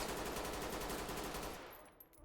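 A full magazine emptied in Ready or Not: a rapid, continuous automatic-fire burst, dense and fairly close, that cuts off and fades out after about a second and a half.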